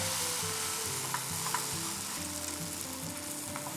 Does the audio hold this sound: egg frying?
yes